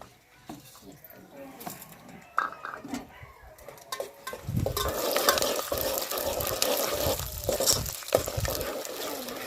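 Chana dal and urad dal frying in hot oil for mango pulihora, starting with scattered clinks and handling noises, then a steady sizzle with stirring that swells and stays fairly loud to the end.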